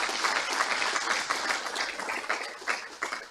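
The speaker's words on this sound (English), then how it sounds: "So you do deserve an applause." A crowd applauds at an academic programme's opening ceremony, with dense, steady clapping throughout and no speech over it.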